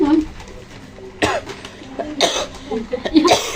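A camera operator coughs several times during an indoor birthday gift unboxing, sharp bursts near the microphone, mixed with rustling and voices.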